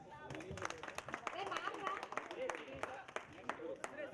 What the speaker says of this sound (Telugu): మనందరి తరపున ఫస్ట్ మళ్ళీకి కృతజ్ఞత తెలియజేసుకుందాం in the way of claps